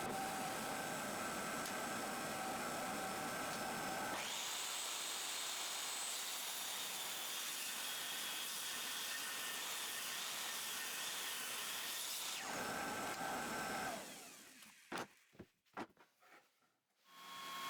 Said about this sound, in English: On the table saw, I rip the table at those specific points.